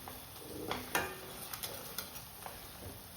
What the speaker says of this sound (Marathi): तेल सुटेपर्यंत हे मसाले छान तेलात परतून घ्यायचे